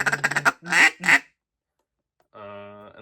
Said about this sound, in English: The Double Nasty Buck Gardner duck call.